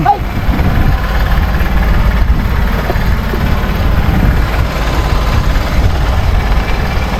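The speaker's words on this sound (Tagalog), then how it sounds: "motor ni Tirong" A fishing boat's motor runs at sea at night, a loud, steady, low rumbling drone that continues without a break throughout.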